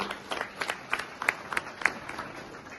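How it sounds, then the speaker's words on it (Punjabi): Scattered hand claps from an audience at a political rally for NREGA workers, a loose, thin round of applause with a few sharper claps standing out, moderately distant and not very loud. "ਇੱਕ ਵਾਰੀ ਤਾੜੀਆਂ ਮਾਰ ਦੋ ਐਸੇ ਲੋਕਾਂ ਨੂੰ"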